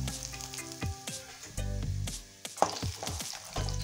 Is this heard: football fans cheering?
no